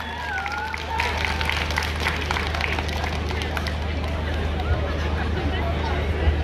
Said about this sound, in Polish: Słuchajcie, brawa dla nich